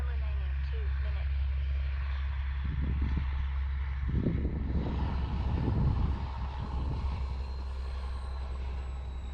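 Arrows F8F Bearcat RC model warbird airplane in flight: a steady, fairly distant engine drone runs throughout while someone talks over it.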